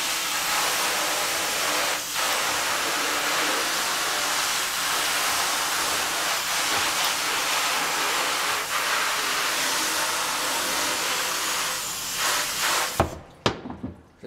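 Water sprays steadily onto a screen-printing screen, rinsing off plastisol ink with a broad hissing rush for about thirteen seconds, then cuts off abruptly to near silence.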